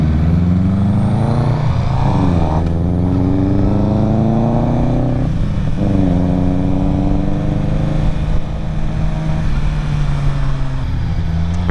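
A Suzuki GSXR 600 sport motorcycle is ridden up close, its engine revving and climbing through gears with rising whines, brief dips at shifts, and a sustained loud roar.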